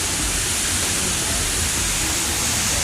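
Water rushes at a river bathing spot, a loud, dense, continuous hiss like a small waterfall, unbroken for the whole stretch and with no voices.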